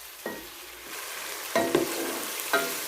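Tomatoes for Sindhi biryani fry on a high flame with a loud, steady sizzle, broken by three brisk scraping stirs of a spoon against the pan, and no talking.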